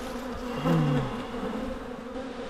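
Honey bees buzz steadily around neglected, never-inspected abandoned beehives, a close, continuous drone that swells briefly louder as individual bees pass near, with no talking.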